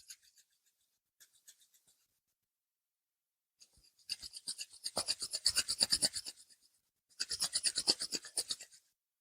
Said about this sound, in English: Let's bring our palms together and rub them.